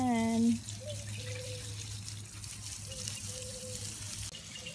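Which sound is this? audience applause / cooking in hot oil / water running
water running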